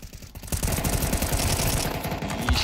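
Sustained automatic rifle fire from Counter-Strike 2, played at a PGL Major in Copenhagen in 2024, with dense, rapid shots emptying a full magazine in one loud, continuous burst.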